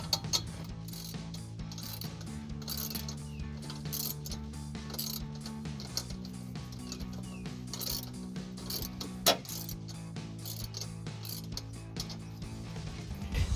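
A ratchet tightens the exhaust clamp nut on a C&L Sport axle-back exhaust fitted to a 2005-2010 Ford Mustang V6. Rapid, even, close clicking runs almost nonstop under a faint mechanical hum, with one sharper clack partway through.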